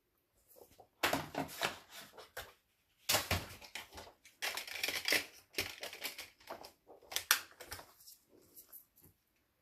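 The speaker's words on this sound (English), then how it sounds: "now on my trimmer, using my straight blade, I'm going to go ahead and make that angle cut" Paper being cut with a straight blade on a trimmer for an angle cut, heard as several close crisp slicing and crunching bursts separated by short silences.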